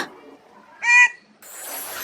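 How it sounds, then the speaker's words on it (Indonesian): A short, bright bird call rings out once, clear and fairly close, with quiet surroundings before it and a soft hiss after. "tapi malah suara burung yang terdengar"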